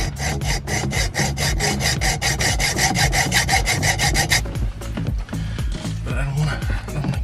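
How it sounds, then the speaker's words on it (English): A hand saw works slowly through the shift knob of a B8 Audi A4 2.0 TDI, giving a steady rasping stroke rhythm that is loud and close, with the strokes louder early on and then continuing more raggedly. "I'm gonna be using this saw and just like slowly cutting away at this bad boy"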